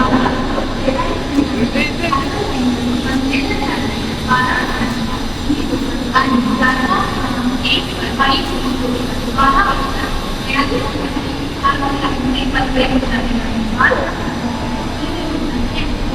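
Rumbling rush of a Mumbai local train running between Nerul and Belapur, loud and close, with rattling clatter and occasional squeals throughout while a person talks over it.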